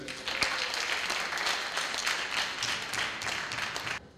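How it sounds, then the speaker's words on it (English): Steady applause from a crowd, dense and continuous for several seconds before stopping abruptly. "Can I have a round of applause for them?"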